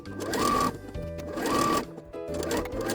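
A sewing machine stitches a half-inch seam on a jumpsuit pocket facing in three short, loud, close bursts of rapid needle chatter, with brief pauses between them.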